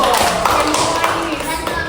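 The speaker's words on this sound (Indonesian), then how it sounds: "beri tepuk tangan dulu" Classroom applause from junior high students during a group counseling session, a loud, dense burst of clapping with taps and thumps and voices running through it.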